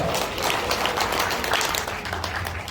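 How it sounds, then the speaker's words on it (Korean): Applause from an audience at a lecture on a hometown donation scheme, a dense, steady wash of clapping with a few murmurs under it, filling the whole stretch at moderate loudness. "자, 박수 보내주세요."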